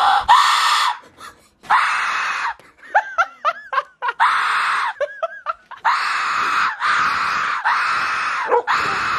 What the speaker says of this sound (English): Hey, look at this whistle I got. It's like a screaming whistle.